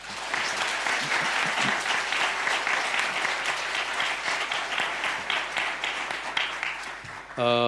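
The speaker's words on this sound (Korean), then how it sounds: "시간 다 같이 축복의 박수 한번 하겠습니다." A church congregation at Sunday worship gives a round of blessing applause, dense continuous clapping filling the room for several seconds, with voices faintly beneath and a brief sound at the very end.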